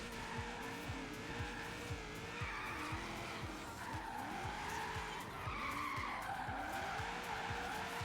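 Car drifting in Forza Horizon 3 racing game, tires squealing continuously over a revving engine, loud and close throughout with repeated pitch sweeps as the car slides.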